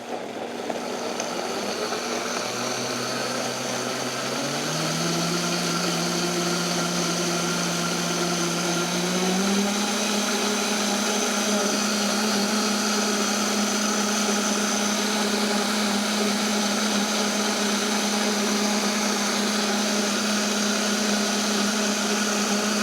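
Kitchen blender running on a recipe, a loud steady motor whir that rises in pitch as it spins up in the first ten seconds, then holds a constant drone.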